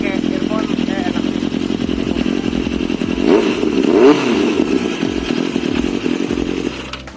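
A 1986 Suzuki GSX-R 750 hypersport motorcycle with a 750 cc engine runs close and loud, its idle climbing into a couple of quick revs in the middle before settling back.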